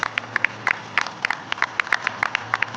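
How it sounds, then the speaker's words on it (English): Scattered hand clapping from a modest crowd, irregular claps overlapping in a steady patter throughout. "Let's give a big round of applause"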